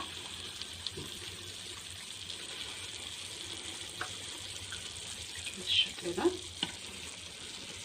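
Hot syrup poured over freshly baked basbousa straight from the oven gives a faint, soft sizzle, with a few brief louder hissing bursts near the end.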